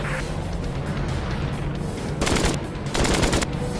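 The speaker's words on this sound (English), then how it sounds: "He's on me! Enemy fire!" Enemy machine-gun fire in the aerial combat game Flying Tigers Over China: two loud, rapid bursts of rattling shots rise over a steady engine drone, with no talk.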